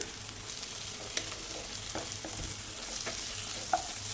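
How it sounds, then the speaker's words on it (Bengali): Onions frying lightly in a pan for an egg curry, a soft steady sizzle with a few faint clicks and scrapes of stirring, nobody talking. "এদিকে দেখুন পেঁয়াজগুলোকে হালকা ভেজে নিয়েছি"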